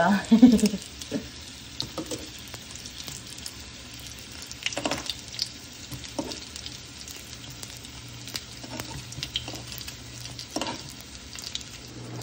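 Siomai dumplings sizzle and fry in a pan, with a steady soft crackle, occasional stirring clatters and brief louder pops over about twelve seconds, fairly close and moderate in volume.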